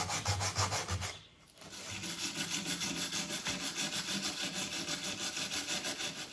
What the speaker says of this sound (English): So this would just need some sandpaper. We use some 80 grit.